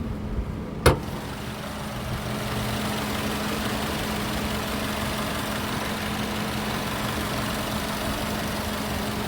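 A 2021 Subaru Ascent with a 2.4-liter turbocharged boxer engine idles in a steady, even low hum. A brief sharp click comes near the start, then the hum continues unchanged at moderate loudness.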